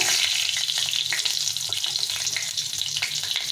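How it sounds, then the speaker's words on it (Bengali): Dried red chili and a bay leaf sizzle steadily in hot oil as a tempering, giving a bright, dense hiss close by with small crackles and stirring scrapes over it and no talking. "এখন আমি এর মধ্যে আর কিছুটা তেল দিয়ে দেবো দিয়ে আমি একে ফোড়ন দেবো ফোড়নে হচ্ছে শুকনো লঙ্কা একটা তেজপাতা"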